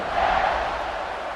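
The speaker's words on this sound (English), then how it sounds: "and this crowd now ready to get behind them." A football stadium crowd at an Auburn versus Baylor game roars steadily just before a late kickoff, a dense, continuous wall of cheering with no distinct voices standing out.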